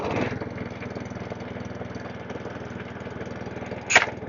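A Webb WER41SP petrol lawn mower, pull-started on full throttle and choke, fires with a short burst, then runs in a rapid, even chugging idle nearby, with a sharp click near the end.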